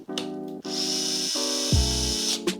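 A low-powered electric screwdriver drives a screw into a Mahlkönig E80 Supreme coffee grinder, whirring steadily in close bursts with pitch shifts as the load changes and short stops between runs.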